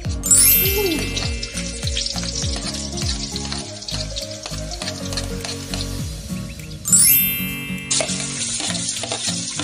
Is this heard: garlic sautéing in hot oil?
yes